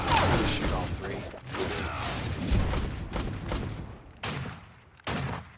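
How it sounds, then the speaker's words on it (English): Gunfire from a hero in the 5v5 mobile game Vainglory: a busy clatter of rapid shots and mechanical clanks at first, then two sharp, separate shots stand out near the end. "I'm gonna shoot all three."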